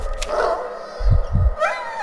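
A dog in the horror game Layers of Fear gives a high whimper, then two deep, booming barks in quick succession over an eerie ambient drone.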